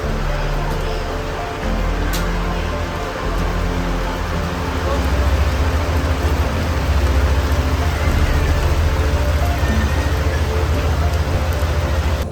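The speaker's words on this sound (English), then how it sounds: "Rainy day on the Amazon River." Heavy rain drums steadily on a river boat on the Amazon River, a dense, loud hiss with low rumbling underneath, continuous throughout.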